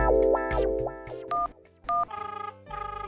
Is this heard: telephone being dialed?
yes